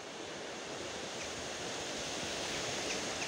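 Rushing river rapids at the Kaunas Santaka confluence during a storm, a dense, steady roar of churning water, loud and continuous throughout with no voices.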